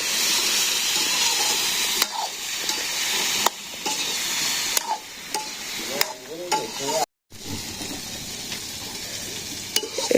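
Vegetables fry in a pan in a Bangladeshi village kitchen, a loud close sizzle and hiss broken by stirring scrapes and clinks, with a brief dropout near the end and no talk.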